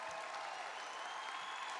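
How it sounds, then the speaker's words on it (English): A graduation audience for a College of Professional and Global Education ceremony gives dense, sustained applause, with many hands clapping steadily in a large hall and no break. "all that clapping and cheering practice you did, now's the time to bring it in"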